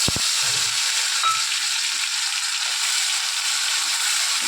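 Ginger and onion paste fries in hot oil, a steady broad sizzle throughout with a couple of soft knocks near the start and no voices.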